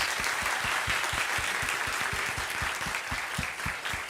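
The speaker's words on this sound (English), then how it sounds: "I think you all deserve a big round of applause" An audience gives a steady round of applause for young people at a question-and-answer session, continuous clapping throughout with a few more distinct, closer claps standing out in a regular pattern.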